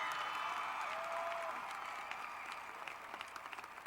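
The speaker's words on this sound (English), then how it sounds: "I would like to ask you to give your parents a round of applause" A high school graduation audience applauds the parents in a big hall: steady, dense clapping that fades gradually, loud at first and then thinning out.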